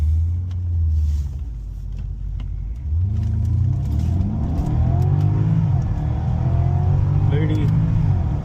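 A Porsche Panamera fitted with a RaceChip tuning module accelerates in Sport mode, the engine rising through repeated surges and gear changes, heard loud from inside the car.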